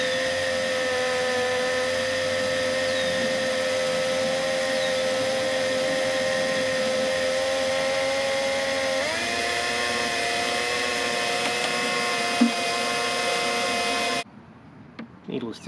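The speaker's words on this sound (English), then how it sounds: "I have a paint stirrer on my drill, and it's a good idea to just have the water circulating" A steady, loud motorized whir of a drill with a paint stirrer churning water in a backpack sprayer runs continuously, its pitch shifting partway through before cutting off near the end.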